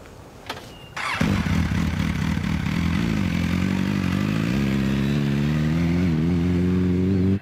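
A motorcycle engine catches after a brief click, then roars steadily and climbs in pitch as the bike pulls away, loud and close, with no voices.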